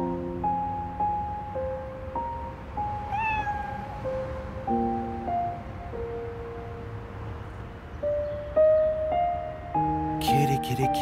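A cat or kitten meows repeatedly in a romance drama series, several drawn-out tonal cries spaced across the scene, fairly close and clear, with a soft ambient bed beneath and no talking.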